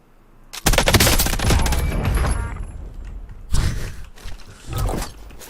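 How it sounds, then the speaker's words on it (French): Automatic gunfire from the video game Warzone: a loud sustained burst of rapid shots, followed by two shorter bursts a few seconds later, close and harsh with no talking. "Regardez la rafale qu'il va se prendre."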